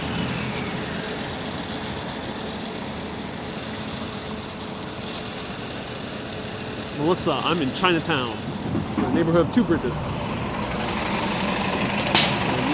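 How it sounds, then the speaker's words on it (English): A New York City bus rolls past in Chinatown's Two Bridges neighborhood on a freezing day, a broad engine roar under wind that peaks midway with hissing air-brake bursts and a sharp final hiss, while a person talks. "Here's a bus."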